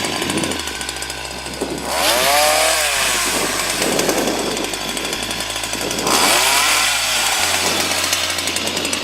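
A Stihl pole saw cuts through tree branches during garden trimming, its two-stroke engine holding a steady drone and rising to a louder, strained whine in two bursts as the chain bites into wood.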